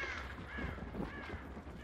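Crows cawing in the Hunt: Showdown game, a few harsh calls over a steady low ambient bed, moderately close and fairly faint.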